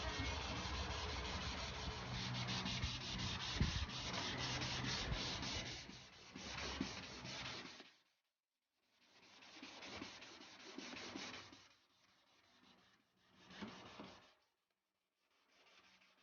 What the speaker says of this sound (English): this is after the first sanding process of using 500 grit